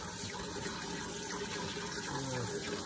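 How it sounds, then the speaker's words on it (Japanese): Tap water running steadily into a sink while shungiku greens are washed to rinse off mud, a close, continuous splashing hiss with no pauses and no talk. "春菊を早速洗いたいと思います。"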